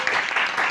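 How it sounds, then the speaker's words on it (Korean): A church congregation at a youth worship service claps together in a brief, dense burst of applause lasting under a second. "박수 한번 쳐주세요"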